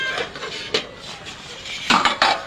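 A utensil scrapes and knocks against a cooking pot while taro and fish curry is stirred, a few close metallic clinks over a soft background hiss.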